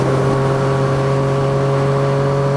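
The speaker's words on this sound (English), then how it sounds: "Oh, yeah, this exhaust made a big difference." A car with a newly fitted exhaust holds a steady, loud engine drone with a strong low hum and a few sustained tones, heard close and continuous without any clear rise in revs.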